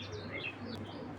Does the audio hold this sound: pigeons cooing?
yes